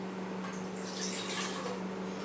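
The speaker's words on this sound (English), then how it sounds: "I put a little water into the bowl" Water pours steadily into a mixing bowl for bread dough, a continuous close splashing trickle with a faint tonal hum beneath, with no talking.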